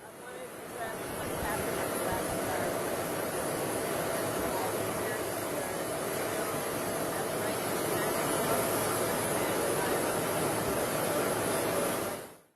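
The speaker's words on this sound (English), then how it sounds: "we're able to hear her over the sound of the plane out there on the tarmac" Steady, loud roar of an airplane engine idling on an airport tarmac, continuous broadband noise with a high whine, filling the whole stretch with no break.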